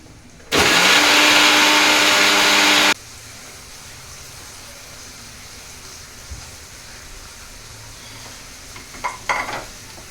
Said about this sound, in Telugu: ఇప్పుడు గ్రేవీని గ్రైండ్ చేసుకుందాము